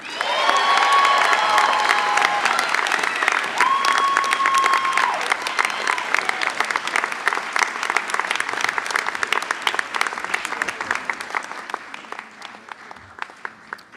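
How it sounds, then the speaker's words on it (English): An audience at a Geisel School of Medicine Class of 2025 class day ceremony breaks into sustained, loud applause with some cheering, then gradually thins out over about fourteen seconds. "One more time, let's give this crowd these students a big round of applause"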